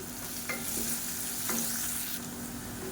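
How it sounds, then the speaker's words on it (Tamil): Chopped onions with salt sautéing in a pan for egg masala curry, a steady close sizzle with a few scraping stirs of a spoon, no voices. "மூணு பெரிய வெங்காயம் பொடியாக சாப் பண்ணி வச்சதை சேர்த்துக்கலாம் வெங்காயம் வதங்குறதுக்கு உப்பு சேர்த்துக்கலாம்"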